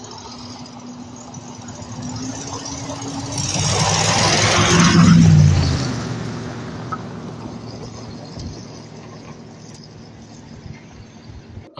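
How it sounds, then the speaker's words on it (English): A Dodge 318 V8 in a 1968 or 1974 Charger idles with a major exhaust manifold leak, a steady rumbling drone that swells louder for a couple of seconds mid-clip, then settles back to an even idle. "Major exhaust leak by the manifold, as you can tell there."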